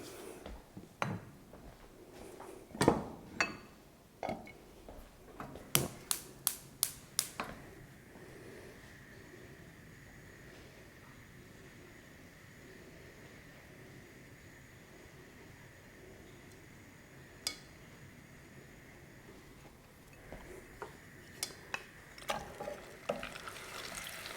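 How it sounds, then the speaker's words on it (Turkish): Onions sautéed in butter in a pan for a Turkish bean dish, with clusters of sharp spoon clicks and stirring scrapes over a faint steady sizzle and quiet stretches between. "Ben öncelikle soğanımızı kavurarak yememize başlıyorum."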